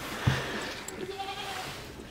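A goat on a farm gives a short bleat close by, followed by quieter faint bleating and shuffling against a low background.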